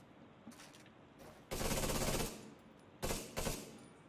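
Automatic gunfire from the video game The Division 2 comes in two loud bursts, a long sustained volley and then a shorter double rattle, with quieter game ambience in between.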